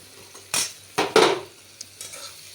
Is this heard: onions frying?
yes